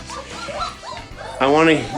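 Several dogs yip, whimper and whine close by in a noisy jumble, ending in a longer, louder whine.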